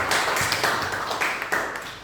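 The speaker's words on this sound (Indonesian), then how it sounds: "Tepuk tangan dulu untuk Lesta." Students in a biology classroom clap for a classmate, a dense burst of hand claps sustained for about two seconds, close and moderately loud, with no talking over it.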